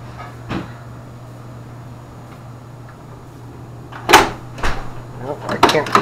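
Several sharp thuds of a 1971 Ford Mustang Boss 351 car door being shut, one early and a cluster near the end, over a low steady hum.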